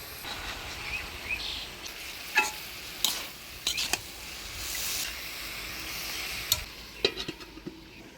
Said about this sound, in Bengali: এবার মটরশুঁটি দিয়ে আরেকটু নাড়াচাড়া করে ঢাকা দিয়ে দিই